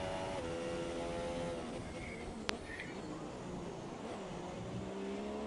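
An F1 car engine in the F1 2017 video game drones steadily at high revs, its pitch shifting slightly as the car runs, with a brief sharp click midway and faint talk underneath.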